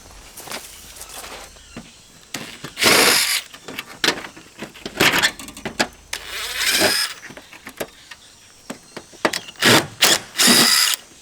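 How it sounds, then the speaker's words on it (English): A power drill runs in several short, loud bursts while working on a trailer rim joist, with footsteps and handling noise in between. "Let's just see if I need my drill."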